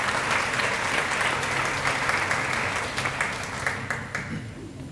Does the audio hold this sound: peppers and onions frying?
no